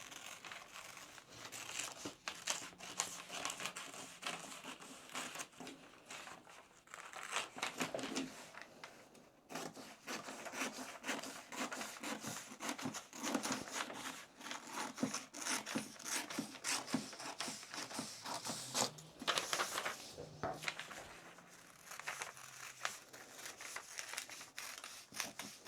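Scissors cut out a paper sewing pattern piece for the back of a summer jumpsuit, a close, continuous crinkling and snipping with rustling paper and occasional louder crunches.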